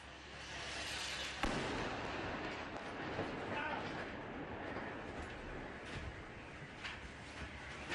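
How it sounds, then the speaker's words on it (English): A drone strike explosion in Gaza City, heard as a dull distant thud amid a constant roar of outdoor background noise and rumbling. "there was a drone strike not far from our office"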